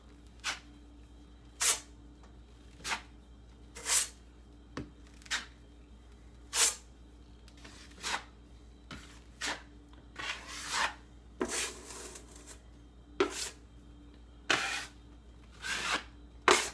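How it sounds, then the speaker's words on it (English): A drywall knife scrapes and rubs drywall compound over a patched hole in a wall, a steady series of short, close scraping strokes repeating every second or so. "all you have to do now is go over top with some of the drywall compound"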